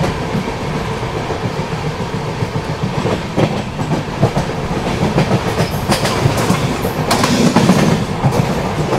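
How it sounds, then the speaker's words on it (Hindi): A Humsafar Express on the Durg–Nizamuddin route runs over rail track with a steady, close rumble and continuous rhythmic clickety-clack wheel beats. No one speaks. "क्या ट्रैक साउंड आ रहा है इस रूट पे, बहुत ज़बरदस्त"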